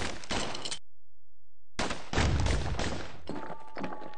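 Twin slinger pistols fire in Bastion, a burst of sharp broadband shots, a pause of near silence, then a denser, louder volley with thumping low hits before a faint tonal tail.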